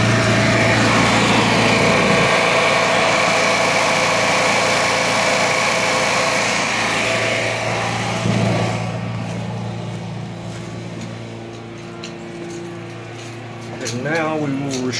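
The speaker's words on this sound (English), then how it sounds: "Okay, we're on backup power. Now you're gonna take a look at the generator." A Generac automatic standby generator runs on backup power during transfer switch repair, a steady loud engine drone with strong harmonic hum that eases somewhat after a few seconds, with a voice talking over it.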